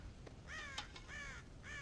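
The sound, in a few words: crows cawing in Red Dead Redemption video game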